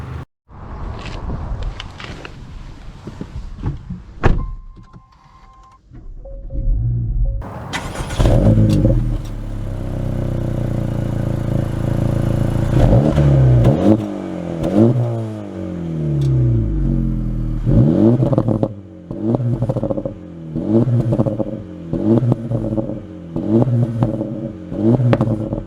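A 2024 Acura Integra Type S with the Carbon Package starts up after a few clicks and door sounds, its engine catching and settling into a steady idle, then revving repeatedly and pulling away close by.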